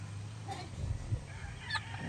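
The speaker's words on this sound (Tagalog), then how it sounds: "Meron tayong mga native na inahin" Native breed hens cluck softly in the background amid low farmyard rumble, a few short scattered calls.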